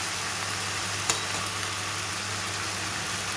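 Cooked rice being stirred and mixed in a hot pan for fried rice, a steady close sizzle with faint scraping, one brief louder clink near the middle, no talking.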